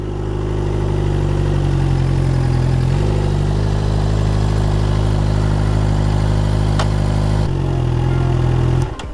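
A Suzuki GSX-R600 sport motorcycle engine runs steadily with a loud, even hum close by, its pitch shifting slightly a couple of times as the bike creeps along.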